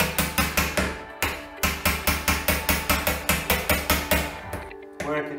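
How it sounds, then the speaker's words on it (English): Steel chisel struck repeatedly to chip old silicone caulk off a wall, a loud, close run of sharp, evenly spaced hammer-like blows at a fast steady rhythm with a few brief pauses. "So I'm just going to use the chisel on the silicone here on the wall."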